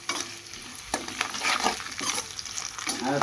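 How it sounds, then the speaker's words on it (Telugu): Onions frying in a pan: a busy, crackling sizzle with sharp scraping clicks from stirring, close up and steady throughout, with no talking. "ఉల్లిపాయలు బాగా ఫ్రై అయ్యాయి."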